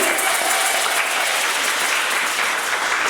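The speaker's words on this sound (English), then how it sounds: "Let's have a round of applause, please." Audience at a Warao community indigenous festival event in Trinidad and Tobago breaks into applause, a continuous, even roar of many people clapping, fairly loud and unbroken for several seconds.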